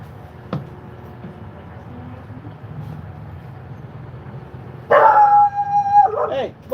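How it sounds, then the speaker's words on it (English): Neighborhood dogs at night: quiet ambient stretch with a faint distant bark early, then a loud nearby howl-like wail rising and wavering for over a second near the end, sounding partly like a voice. "it's like a chain reaction bark with all the other dogs in the fucking neighborhood"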